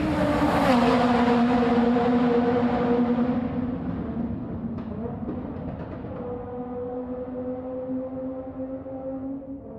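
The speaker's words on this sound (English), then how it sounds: "as you could hear a Group B car come ripping" A loud Group B rally car screams by close at first, its engine note dropping and fading as it speeds away, then a quieter drone lingers.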